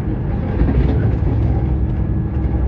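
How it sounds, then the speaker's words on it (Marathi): The Nethravathi Express on the Konkan Railway rolls along with a continuous, fairly loud low rumble and no clear breaks. "एकंदरीत ती ट्रेन ठीकच चालली आहे."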